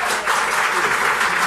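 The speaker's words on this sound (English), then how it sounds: "although I appreciate your applause" Audience applause breaks out at a committee of the whole meeting: a dense, steady wash of clapping from many hands, moderately loud and continuous throughout, with no voices over it.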